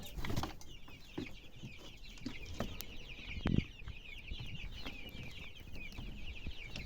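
Young chickens in a cage cluck and cheep nearby, a busy chorus of small chirps over soft rustling and a couple of thumps.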